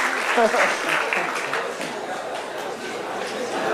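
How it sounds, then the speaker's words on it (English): Lecture audience applauding at the end of a talk on creativity, a steady wash of many hands clapping at moderate level, with a voice speaking faintly over it. "I'm applauding myself."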